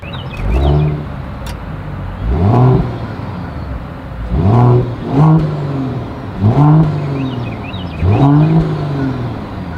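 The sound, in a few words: Mercedes-Benz E450 Coupe exhaust sound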